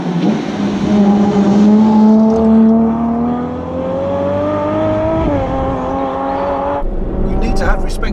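A Ferrari F12 TDF V12 engine revs hard as the car accelerates flat out, the pitch rising through gears before a brief shift, loud and near, with a voice talking over it toward the end.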